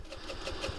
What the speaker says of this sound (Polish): Puszczę gaz, od razu gaśnie.